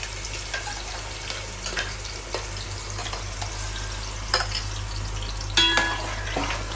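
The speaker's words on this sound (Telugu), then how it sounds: "ఈ పేస్ట్ ఏంటంటే ఉల్లిపాయ టమాటా పచ్చిమిర్చి జీలకర్ర వేసానండి ఇప్పుడు ఇది వేసేసుకున్నాను" A paste of onion, tomato, green chilli and cumin fries in hot oil for a fish curry, giving a steady close sizzle with occasional stirring scrapes and clinks of a spoon against the pan.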